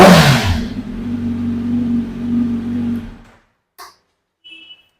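A superbike with a loud aftermarket exhaust roars hard and close as it is revved, a deep steady drone that fades out after a few seconds, leaving near silence with a couple of faint knocks.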